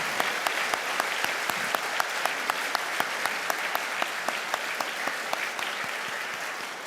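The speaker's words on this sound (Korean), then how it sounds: "우리 선교사님들 박수로 맞이하도록 하겠습니다." A church congregation at a Korean worship service applauds to welcome missionaries, producing steady, sustained clapping from a sizeable crowd with sharper individual claps standing out, rhythmic and continuous for the whole stretch.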